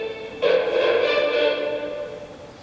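Sample music plays through a Dell Dimension 8400's onboard motherboard sound card, a bright instrumental passage that swells in suddenly after a brief lull and then slowly fades, with no talking.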